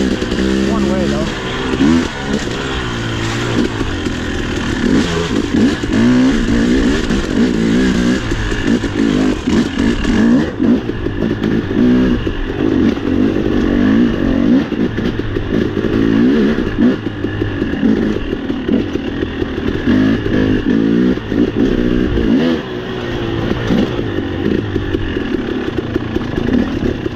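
Off-road motorcycle engine revving loudly and steadily on a rough trail at Brown Mountain OHV, rising and falling close by throughout, with talk heard over the engine.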